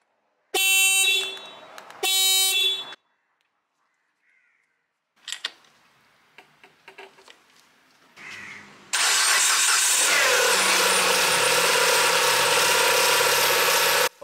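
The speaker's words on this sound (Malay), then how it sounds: "sekarang kita pasang balik kepala bateri and try start tengok macam mana." A car engine starts after a timing belt and tensioner repair: two short loud bursts and a few clicks come first, then the engine catches and runs loud and steady to the end.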